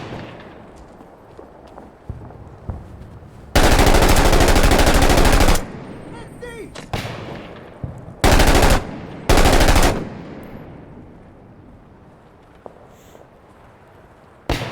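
Heavy machine gun fire in a combat setting, loud and close, arriving as one long sustained burst followed by two shorter bursts, with a low background rumble and faint movement between them.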